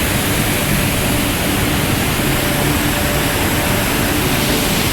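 Steady, loud rushing of falling water at Hogenakkal Falls fills the whole clip, a dense continuous roar with no breaks.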